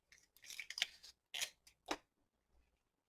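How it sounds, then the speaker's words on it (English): Small pieces of tape pulled off a roll while framing a canvas print: several quick, close, faint ripping strips in separate bursts with short pauses between them, no talk. "pull off a few little pieces of this tape"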